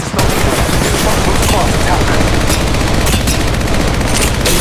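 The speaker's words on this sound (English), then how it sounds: "I am taking fire, friends." Rapid, loud automatic gunfire from an enemy squad in the Apex Legends Mobile shooter game, dense continuous bursts filling the whole moment.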